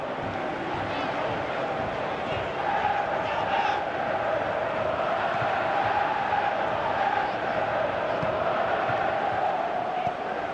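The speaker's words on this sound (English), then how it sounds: "Crowd calling for him to..." Steady, loud stadium crowd roar from a PS3 football video game, a continuous surging din with rising swells, heard alone without talk.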